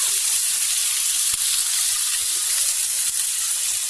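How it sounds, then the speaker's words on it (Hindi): Capsicum, tomato and onion sautéing in hot oil, a steady loud sizzle and hiss with no pauses, close to the pan and without talk. "इसमें पहले हम डालेंगे शिमला मिर्च डाल देंगे, टमाटर और प्याज डाल देंगे। इसे अच्छे से हम सोटे कर लेंगे"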